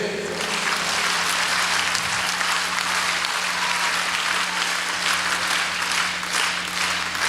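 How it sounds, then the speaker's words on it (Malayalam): A room of trainee teachers applauding in a varied clapping style, a loud, dense, sustained patter of many hands lasting several seconds over a low hum. "ഒന്ന് ഡിഫറെൻ്റ് ആയിട്ട് ഒന്ന് കൈയടിച്ചേ."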